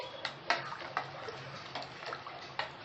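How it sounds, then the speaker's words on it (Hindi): Water pours into creamy tomato paste in a pot on a stove, a steady splashing rush with a few sharper splashes, close by and alone. "टमाटर के सारे पेस्ट को अब हम स्टोव पर फिर से रख देंगे और पानी ऐड करेंगे।"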